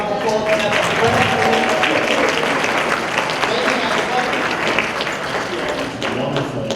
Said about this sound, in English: Let's give our panel a rousing round of applause.